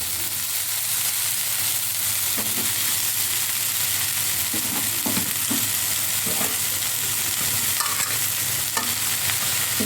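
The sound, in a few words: chow noodles frying in pan with tomato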